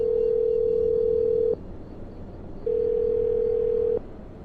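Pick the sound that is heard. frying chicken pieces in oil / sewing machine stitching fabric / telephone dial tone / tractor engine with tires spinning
telephone dial tone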